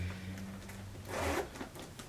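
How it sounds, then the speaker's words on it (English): Zipper running along a Coach Rowan Satchel 25 handbag, a soft rasping pull near the mic lasting about half a second, heard alone in a quiet room. "It has smooth zipper right here"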